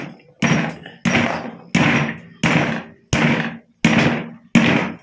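A part is hammered into place on a ceiling fan repair, seven loud, evenly spaced heavy blows close up, each ringing briefly before the next, with no talking.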